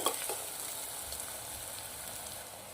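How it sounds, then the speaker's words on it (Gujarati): A soft, steady sizzle of onions frying in a pan until browned, with faint crackles throughout and no voices. "ડુંગળી મસ્ત મજાની લાલ થાય ત્યાં સુધી શેકી લેવાની છે"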